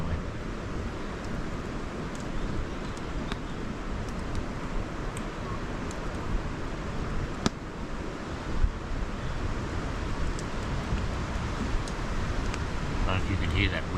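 Strong wind blowing steadily through a stand of aspen trees at a remote campsite, a loud continuous rushing roar with gusty buffeting against the microphone.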